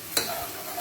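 Masala frying in a pan after a splash of water is stirred in with a spoon, giving one sharp scrape and then a steady close sizzle.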